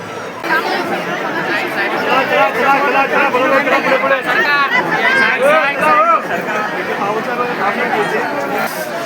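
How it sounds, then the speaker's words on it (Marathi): Dense chatter from a large crowd of people at a Hindu temple on a busy Sunday, many overlapping voices forming a steady, loud babble throughout with no single speaker standing out. "तुम्ही बघत आहात ते बघा फुल गर्दी आहे"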